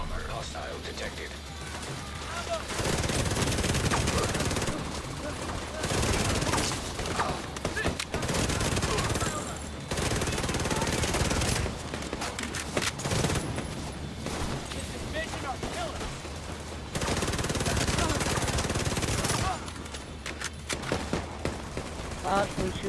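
Gunfire in The Division 2, sustained bursts of automatic fire with bangs and impacts crowding the whole stretch, swelling and easing in several heavy waves under a player talking.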